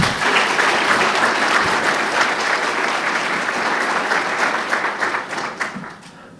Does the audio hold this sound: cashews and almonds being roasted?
no